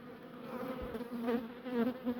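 Honey bees buzzing at an open hive, a close, wavering drone of several insects rising and falling softly throughout.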